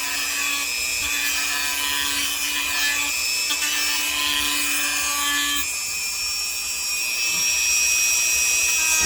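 A power tool bevels the edges of a Kydex sheath with a steady, loud abrasive grinding that runs for the whole span. The pitch shifts slightly partway through and no one talks.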